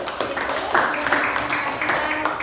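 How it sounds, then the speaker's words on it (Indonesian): Students in a classroom give a group a steady round of clapping that lasts a couple of seconds, with a few sharper bursts of claps within it. "Kasih aplaus dulu untuk kelompok"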